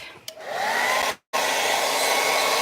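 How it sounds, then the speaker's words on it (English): A hair dryer runs with a steady loud whooshing hum and whine, cutting out briefly for a split second before starting up again at full blast, no voices. "hair dryer again"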